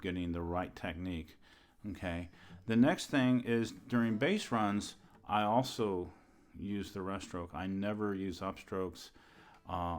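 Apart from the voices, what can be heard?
No everyday noises stand out.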